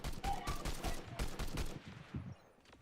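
Rapid bursts of gunfire in the video game Fortnite, several quick cracking shots in a tight cluster for about two seconds before tapering off, fairly faint with a little talk around them.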